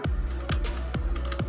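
Computer keyboard typing an expression in After Effects: four distinct, fairly loud key strikes spaced evenly, each a sharp thump with a quick decay and faint clicks between them, with no one talking.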